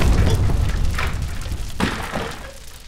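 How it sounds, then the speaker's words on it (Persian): Firecracker exploding indoors with a sharp boom, followed by a couple of dull thuds and fading rumble. "ترقه بود بابا"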